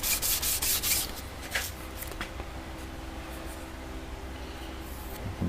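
Sandpaper of about 400 grit rubbing over a piece of Micarta, with quick, brisk strokes near the start that settle into steadier, softer scraping, close up with no talking.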